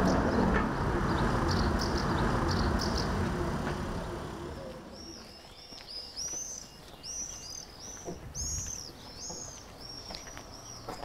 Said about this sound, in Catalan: Mira, Miquel, quantes falsies estan volant